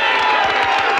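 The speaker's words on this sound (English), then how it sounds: "he gets a well-deserved standing ovation from the Sikeston crowd" A Sikeston home crowd at a boys' high school basketball game roars in a sustained standing ovation, a dense, loud wash of cheering and whoops with no break.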